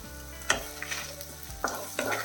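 Dried red chillies and roasted gram fry in a pan over medium flame, with a close, continuous sizzle broken by several sharp scraping stirs.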